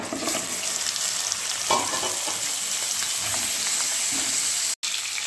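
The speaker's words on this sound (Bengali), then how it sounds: "কড়াইটা গরম হয়ে গেছে, মাছগুলোকে ভেজে নেব" Catla fish frying in hot mustard oil in a wok, a dense, continuous sizzle that holds steady and close throughout with occasional stirring clinks.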